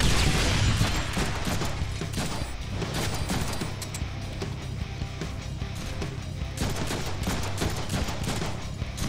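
Gunfire in the video game Deadpool: dense, rapid volleys of shots crackle continuously for the whole stretch, loud and close, with a few heavier bursts scattered through and no talking.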